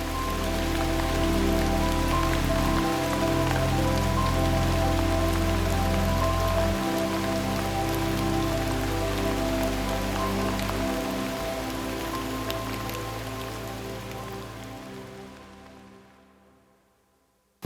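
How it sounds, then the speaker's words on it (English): Heavy rain pours down steadily in a jungle, a dense, loud hiss of drops drumming on surfaces that holds even for most of the stretch before fading away at the end. "it's raining really hard now"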